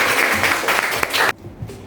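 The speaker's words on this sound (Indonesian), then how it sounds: "Tepuk tangan bagi kita semua." A university classroom group in Indonesia bursts into loud, dense applause for just over a second, then it cuts off abruptly, leaving a quiet room.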